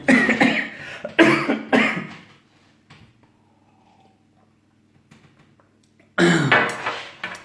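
A person coughs three times in close, loud, harsh bursts, goes quiet for a few seconds, then breaks into a further run of coughing.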